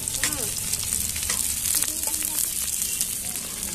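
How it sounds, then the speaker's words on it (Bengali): Vegetables for fried rice sizzle steadily in a hot pan with oil, a dense continuous frying hiss with faint stirring scrapes throughout, close up and without speech. "ফ্রাইড রাইসের জন্য সবজিগুলো একটু ভেজে নেব"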